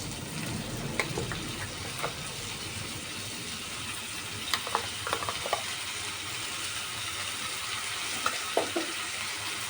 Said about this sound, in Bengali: এখন আমি ভালো করে মশলাটাকে কষিয়ে নেব